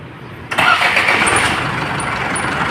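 An Isuzu 4JJ1 diesel engine with heavy white smoke cranks and catches after half a second, then settles into a loud, steady close-up idle.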